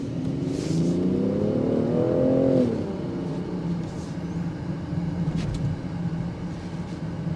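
A 2024 Range Rover Sport Dynamic SE's engine revs up with rising pitch for a couple of seconds, then settles into a steady road drone as the SUV cruises on.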